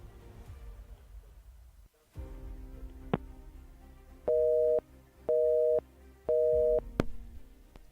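Telephone busy signal on a radio call-in line after a caller drops: three evenly spaced steady tone bursts, loud and clear against low studio background noise.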